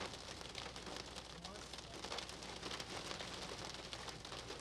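Steady, dense rain hisses on a road surface, constant and fairly faint, with no pauses.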